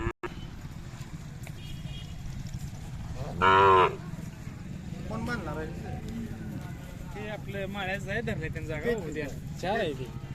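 A cow lets out one loud, brief moo amid a noisy outdoor crowd at a village fair cattle market, with people talking throughout and steady background din.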